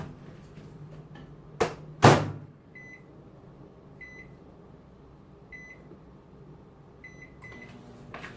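A Black & Decker microwave oven gives a couple of sharp clunks from its door or controls, then a steady low hum with short electronic beeps repeating at regular intervals, all close and fairly clear.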